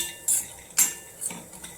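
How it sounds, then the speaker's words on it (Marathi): Spoon scraping and clinking against a pan while spicy lentil dumplings (sandge) are stirred and dry-roasted, Kolhapuri style; three sharp metallic scrapes spaced about half a second apart, then softer shuffling, close and fairly quiet. "हलवत हलवत भाजून घ्यायचं"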